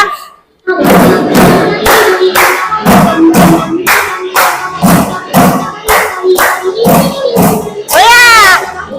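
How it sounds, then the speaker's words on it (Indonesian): Clapping hands in a classroom activity: about a dozen loud, evenly spaced claps in a steady rhythm, with voices in between and a brief spoken or sung phrase near the end. "Tepuk ya."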